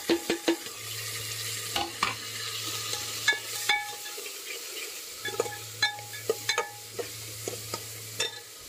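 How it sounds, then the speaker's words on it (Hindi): Onions and tomatoes frying in a pan for namkeen chawal, with a soft continuous sizzle under repeated sharp scrapes and clanks of a spoon stirring against the metal, coming in irregular bursts close to the microphone. "प्याज हमारी भून गई है, देखो इसमें टमाटर को ऐड कर देंगे"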